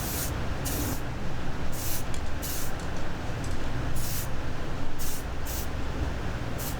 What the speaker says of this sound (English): Spray a layer of the body color.